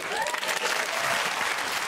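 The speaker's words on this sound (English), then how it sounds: "Let's retract that round of applause." A round of applause from a group of people, a steady, fairly soft wash of clapping that holds evenly for a couple of seconds.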